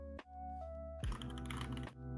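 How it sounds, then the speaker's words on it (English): Computer keyboard typing during a podcast recording, a short burst of quick key clatter lasting about a second, fairly close, set against a low steady hum with no talk. "I'm typing things on the side."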